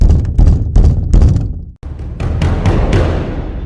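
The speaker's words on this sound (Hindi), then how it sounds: "तभी कोई जोर जोर से दरवाजा पीटने लगा।" A series of loud, heavy pounding knocks on a door, coming in rapid clustered bursts with a brief pause midway before the hammering resumes, close and forceful with no voices.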